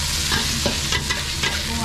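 Beef shin stir-fries in an iron wok, a loud steady sizzle with scraping stirs of the spatula at a few irregular moments.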